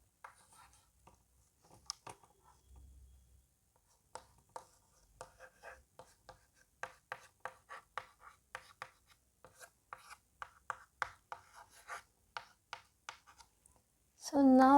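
Dry eraser strokes rub across a board in a steady run of short, rhythmic swipes that build in density toward the end, fairly close and alone, with a brief louder burst of voice cutting in at the very end.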